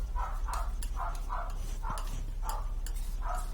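A dog barks repeatedly in a steady rhythm, sounding somewhat distant, over a constant low droning background like a running appliance.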